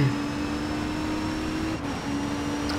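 Race car engine in DTM Race Driver 3 holding a steady high drone, with a brief dip as though shifting gears before the tone returns, loud and without talk.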